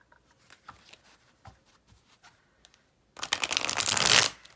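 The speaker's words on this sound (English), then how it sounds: "Let's shuffle the Tarot Mucha." Tarot Mucha deck, a stiff Rider-Waite-Smith clone, being shuffled by hand: a few faint card taps, then a dense, loud burst of riffling cards lasting over a second, close to the mic with no talking.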